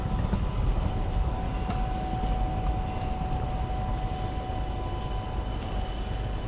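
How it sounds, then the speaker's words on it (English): A train rumbles at a Boston station after a nor'easter, a loud continuous low roar with faint steady tones above it and no voices. "this is going to be another one of those where the train leaves right as I'm getting over there"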